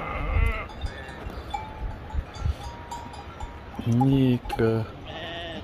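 Sheep and goats bleat on a mountain pasture in a bowl-shaped valley ringed by peaks, several loud, near bleats coming in a short burst while someone talks.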